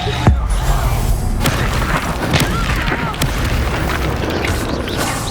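Reducto spell blast from combat in Hogwarts Legacy on PS5, a sharp booming burst near the start followed by dense, loud battle noise and further impacts throughout.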